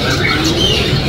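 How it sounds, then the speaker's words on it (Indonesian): A hybrid myna, a cross between an Asian pied myna and a Nias hill myna, gives harsh squawking calls over noisy background chatter at a bird kiosk, close and steady for about a second. "Ini jalak hibrid. Silangan jalak suren dengan jalak nias."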